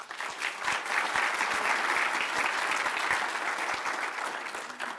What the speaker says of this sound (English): So I also want to give them a big round of applause as well.